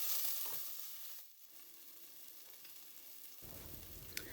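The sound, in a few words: onions and peppers sizzling in harissa oil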